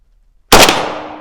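A single sharp, loud report from a Riley Defense RAK74 rifle, an American-made AK74, cracks out after a moment of silence and then rings off in a decaying tail outdoors.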